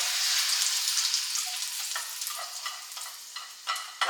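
Beaten eggs hit the oil in a hot wok during a Cantonese stir-fry of yellow chives and shrimp, giving a bright, loud sizzle that slowly fades, with a few scraping stirs near the end and no talking.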